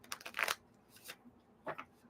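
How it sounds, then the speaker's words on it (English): A deck of tarot cards being shuffled by hand in short, soft riffling bursts, quiet and close with brief pauses between them. "If I can shuffle the cards without dropping them."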